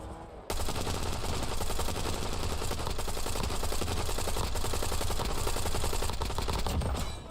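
Continuous rapid gunfire in Warzone, a dense stream of shots starting abruptly after a quiet moment and running steadily to the end, fairly faint in the mix with no voices over it.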